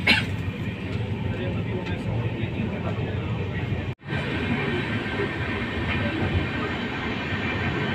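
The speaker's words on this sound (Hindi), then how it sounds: "वहाँ से बस अभी जस्ट ट्रेन निकल चुकी है।" Interior rumble of the Jaipur Double Decker Express moving along the track from Delhi, a steady, loud, close-up drone of wheels and carriage, broken by one brief sharp dropout midway.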